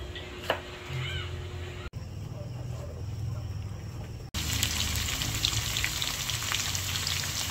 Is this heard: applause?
no